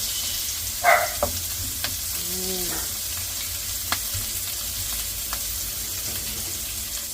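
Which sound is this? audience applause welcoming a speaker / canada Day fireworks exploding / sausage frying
sausage frying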